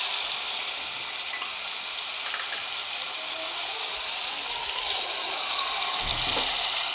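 Steady sizzling of chicken liver frying in a pan, a soft continuous hiss with light stirring and a brief splash of a little water near the end.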